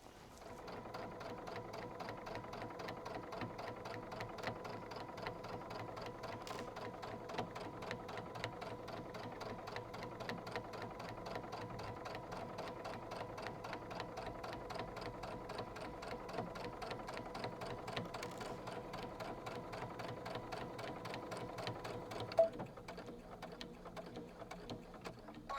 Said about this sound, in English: So we're going to sew a 1/4 inch right along this edge.